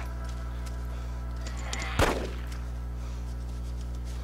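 A single gunshot rings out in the DayZ mod, a sharp, loud crack over a steady low hum, with the rest of the moment quiet.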